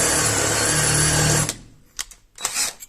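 A power drill whines steadily for about a second and a half as a worn bit struggles to bore through material while installing a manual rolling-shutter crank handle, then stops, followed by two short revving bursts.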